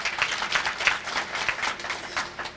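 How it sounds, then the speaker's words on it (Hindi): Audience applause at an All India Mushaira poetry gathering in Digras, a dense burst of many hands clapping steadily and fairly close for a few seconds, with no voices over it. "एक बार जोरदार तालियां"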